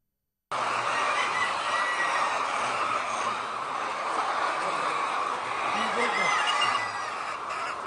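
Many chickens cluck and squawk together in a poultry farm where eggs are being collected, forming a dense, steady din that starts abruptly and holds loud throughout.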